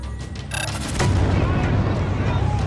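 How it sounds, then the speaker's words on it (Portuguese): Homemade bombs explode near the Boston Marathon finish line in 2013: a sharp blast bursts out, then a sustained, loud, noisy roar follows, with voices faintly mixed in. "2 bombas caseiras explodem próximas à linha de chegada da Maratona de Boston."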